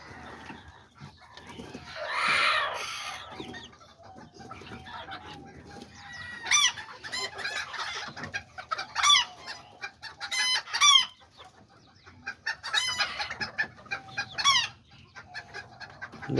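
Chickens cluck steadily while bantam roosters crow several times in bursts, fairly close, with rustling farmyard noise in between.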